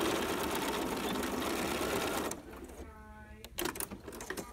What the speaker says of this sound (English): I've took it to the sewing machine and I've sewn it.